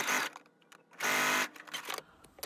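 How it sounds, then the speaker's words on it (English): A sewing machine stitches the front of a color-block shirt from McCall's pattern 8001 to the back, running in short loud whirring bursts with a longer steady run in the middle and quiet clicks between, close by. "I am just going to sew the front to the back now that I got the back finished."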